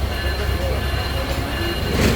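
Passenger train on the Dhaka to Kolkata route, heard from on board as a steady low rumble and rolling drone, loud and close, with talk over it.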